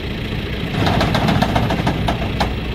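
A garbage truck's drum slip clutch slips while the drum fails to turn, giving a steady close mechanical drone with a run of rapid knocking clicks over the engine's idle.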